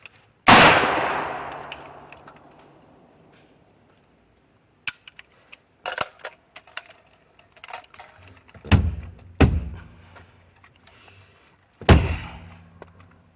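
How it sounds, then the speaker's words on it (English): Loud single shots from a homemade 7.62x39 pistol with loose dirt sprinkled on its bolt carrier: one sharp blast with a long decaying tail, then scattered clanks and handling noises, then three more close shots spaced a few seconds apart. "I was shooting it, sprinkling loose dirt on the bolt carrier to see if I can induce a malfunction"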